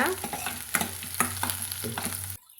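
Small shallots and curry leaves sautéed in a pan after mustard seeds have popped, giving a steady sizzle broken by several spatula scrapes before it cuts off abruptly.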